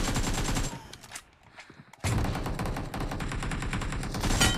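Rapid automatic gunfire from a BGMI mobile battle-royale match, loud and near in dense sustained bursts, breaking off briefly for a quieter gap before resuming with renewed heavy fire.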